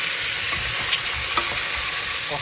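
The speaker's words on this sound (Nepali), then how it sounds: "अनि यो रेडी भएको मटर पनि हालिदिन्छु पाक्दै गर्दैछुमा होइन।" Peas and onion frying in a pan for Nepali egg curry, a loud steady sizzle close up with a few soft stirring scrapes and no talking.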